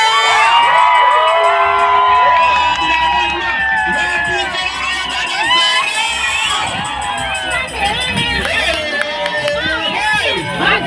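Large outdoor crowd cheering, whooping and shouting loudly and continuously, with children's high yells and excited voices layered into a dense, roaring din at close range.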